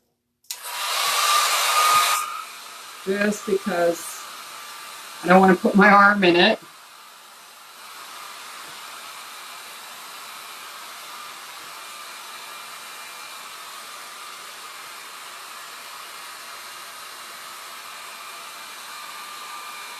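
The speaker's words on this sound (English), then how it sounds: "I'm just going to hit this with a blow dryer." A blow dryer drying watercolour paint roars loudly at first, then someone speaks briefly before the dryer settles into a long, steady, softer whoosh.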